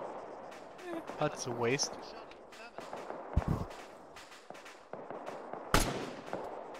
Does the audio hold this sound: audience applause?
no